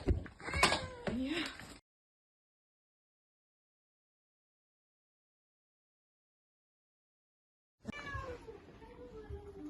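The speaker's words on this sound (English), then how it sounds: "When our teams hear one of these clever cats calling for help" A cat rescued in Syria or Turkey meows loudly and repeatedly at close range, then falls silent for several seconds before more plaintive cries resume.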